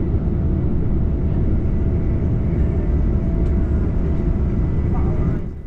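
Diesel passenger train, one of the UK's newest units on its first day in service, running at speed, heard from inside as a steady loud low rumble and roar that holds for several seconds before easing slightly at the end.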